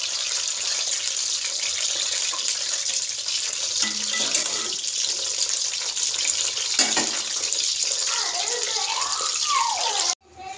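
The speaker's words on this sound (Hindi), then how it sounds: "अब इसको हम लोग इस ऑयल में डालेंगे। इसको हम लोग फ्राई करेंगे।" Eggplant slices frying in hot oil, a broad continuous hiss and sizzle, close and steady, with a few clinks and a brief sweeping rise near the end.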